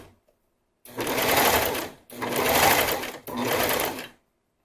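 Sewing machine stitching swimsuit fabric along curved edges, running in three steady bursts of about a second each with brief pauses between, close and clear, with a faint word spoken at the start.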